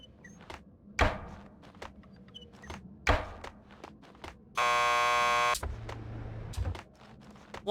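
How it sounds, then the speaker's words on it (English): A door buzzer sounds in the video game Max Payne 2, one loud, steady electronic buzz lasting about a second, between footsteps, door clunks and other sparse game sounds. "Just press the buzzer by the door."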